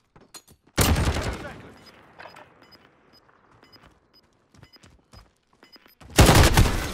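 Gunfire in Call of Duty: Modern Warfare, a tournament gunfight match: two loud bursts of rapid shots at the start and end, with scattered faint pops and clicks between them.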